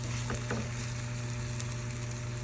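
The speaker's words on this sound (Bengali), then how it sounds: "একটু ভাজা ভাজা হচ্ছে" Onions fry in a pan for a Bengali dim posto bhapa, with a steady, continuous close sizzle and a few faint stirring clicks.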